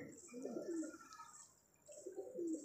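A female high flyer pigeon coos softly and faintly in two low, rolling phrases separated by a short pause.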